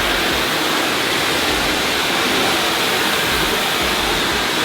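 High pressure water rinsing a car during winter, a steady loud broadband hiss of spray running without a break, with no talking.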